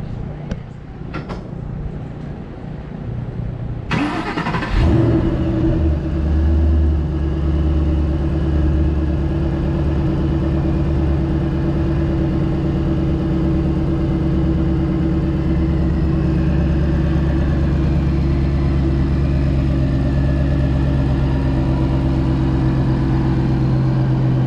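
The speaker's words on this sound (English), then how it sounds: "We're going to do an idle, then a few revs and hold, so Daryl can see exactly what's going" A Mustang GT500 engine cranks and fires up after a few seconds of quiet, then settles into a loud, steady idle that runs on without pause.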